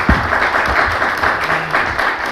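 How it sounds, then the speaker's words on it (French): Audience applause at a gathering on the contribution of women to development, a steady dense clapping of many hands with a faint voice murmuring beneath, filling the whole moment without pause. "s'il vous plaît, applaudissez pour votre présence"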